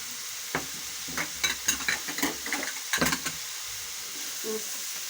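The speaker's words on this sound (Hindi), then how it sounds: "तमाम चीज़ों को मिक्स करते हैं।" Macaroni with a crumbled chicken cube, black pepper and chopped coriander is stirred in a sizzling pan, a spoon scraping and clacking in short bursts over a constant frying hiss, with no talking.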